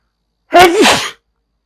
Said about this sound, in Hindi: देखो छींक आ गई।